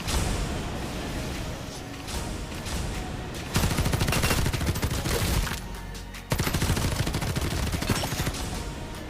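Rapid gunfire from a Farlight 84 battle royale match, with sustained bursts of shots layered over in-game sound effects and dense, loud fire that shifts in intensity across the stretch.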